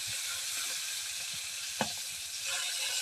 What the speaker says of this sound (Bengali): এই যে মাছটা ভাজা হচ্ছে, মাছটা শুধু লবণ, হালকা একটু মরিচ হলুদ দিয়ে